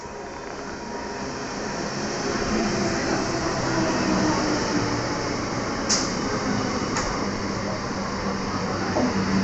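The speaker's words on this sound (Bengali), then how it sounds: "তো খড়গপুর লোকালও এবার ঢুকে যাবে" A Kharagpur local train pulls into Bangla station with a loud, steady rumble that swells and stays close, joined by a pair of brief high squeals; no one talks.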